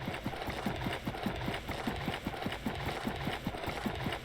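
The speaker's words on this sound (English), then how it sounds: "Alright, so I am sucking up a bunch of water." Scrap Mechanic game vacuum block sucking up water, a steady mechanical whir with a fast, even pulsing clatter that runs continuously throughout at moderate level, with no speech.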